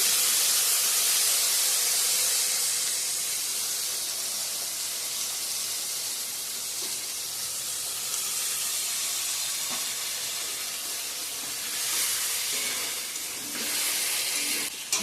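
Spice paste with tomato, ginger and onion sautéing in a pan gives a continuous broad hiss of frying, loudest at the start, steady and close, with occasional faint clinks and no talk.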